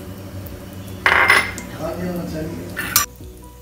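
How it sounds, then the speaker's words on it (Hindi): Whole cumin, cinnamon, cloves and other whole spices tipped into hot oil in a kadhai while making malai kofta, with clinking utensil and metal pan sounds, a brief stir, and a low continuous sizzle. "अब हम इसमें जीरा, दालचीनी, लौंग और खड़े मसाले ऐड कर लेंगे और इसको सॉटे होने देंगे।"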